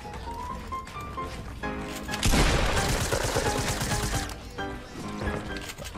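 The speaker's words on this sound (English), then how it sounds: "Go, drum gun, go!" Drum gun fire in the battle-royale video game Fortnite, a loud burst of rapid automatic shots lasting a few seconds amid other game sounds, with no talking.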